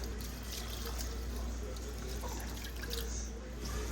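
Water splashes and trickles steadily into a pot of cooking rice, a continuous liquid pour heard close up over a low background hum.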